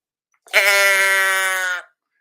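Sheep bleating once, a single loud, close, nasal bleat lasting just over a second, alone against silence.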